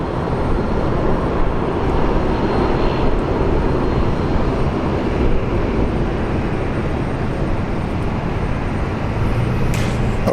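A BAe 146 jet airliner takes off at Brisbane Airport with a steady, loud engine roar. The deep rumble holds throughout and has no talk over it.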